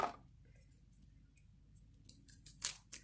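A knife cuts a food item into quarters in a home kitchen as duck dinner is being prepared: a few soft, quiet chops and clicks, with the last ones landing close together near the end.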